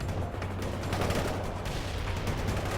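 Dense, continuous battlefield gunfire from the video game World In Conflict, a sustained wall of rapid shots and blasts with no pauses, loud and close throughout.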